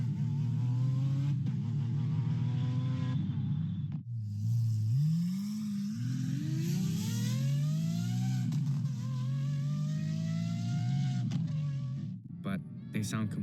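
A Lamborghini 6.5-liter naturally aspirated V12 idles with a steady low exhaust drone, then revs sharply, its pitch sweeping up and falling back before settling, loud and close.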